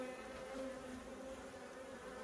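Honeybees buzz steadily in a dense, close drone as a hive is opened for inspection, the hum holding level throughout with no voices.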